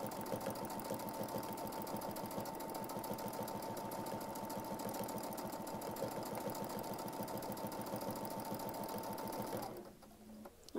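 A sewing machine stitching free-motion quilting runs at a fast steady pace for nearly ten seconds, then stops abruptly, with no talking.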